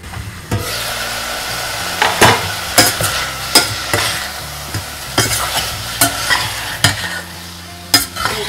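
Malvani chicken sautéing in a pan gives a steady sizzle broken by a regular series of sharp spoon scrapes and knocks as it is stirred, close and clear, with no talking.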